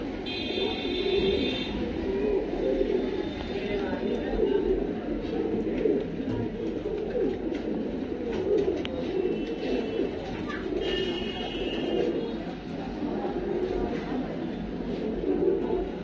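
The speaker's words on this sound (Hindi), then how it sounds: "ये देखिए इसमें काफी अच्छे कबूतर हैं" Pigeons in a loft coo softly in repeated low, throaty phrases, with some higher chirps and flutters mixed in. Someone talks quietly now and then.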